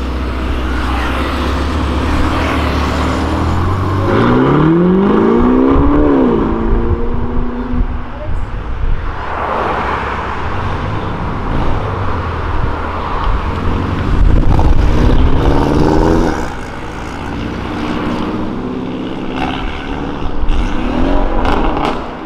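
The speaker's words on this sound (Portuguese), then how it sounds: "Essa Porsche é aquela que é o dono mesmo, que acelera, é ela." A Porsche sports car accelerates hard and sweeps past on the street, its engine note rising and falling as it goes by, followed by more passing traffic rumble while people talk.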